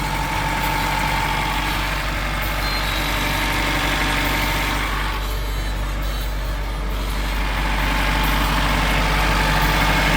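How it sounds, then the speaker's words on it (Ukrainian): A VAZ 2105 car engine, a belt-driven unit enlarged from 1.3 to 1.6 litres, idles loudly and evenly, a constant low drone with a steady mechanical rattle and no talking. "В цілому двигун працює абсолютно рівно"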